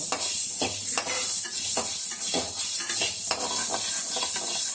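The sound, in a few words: roasting pepper and chillies in a pan for kuzhambu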